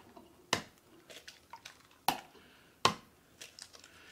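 Three eggs cracked one by one into a bowl for an egg wash, giving three sharp, close cracks spaced apart, with faint handling clatter between them.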